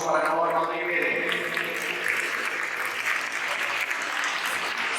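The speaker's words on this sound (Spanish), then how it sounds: "Fortísimo aplauso para Noa Rodríguez." Steady applause from an audience at a 2023 sports awards gala, dense clapping filling the hall throughout with faint voices underneath.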